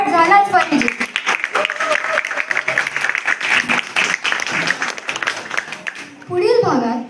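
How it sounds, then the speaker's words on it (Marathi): An audience at a Marathi language celebration event claps in a long dense roll. A voice talks at the start and end, with some children's voices among the crowd. "या विलक्षण ऊर्जेसाठी टाळ्यांचा कडकडाट झालाच पाहिजे."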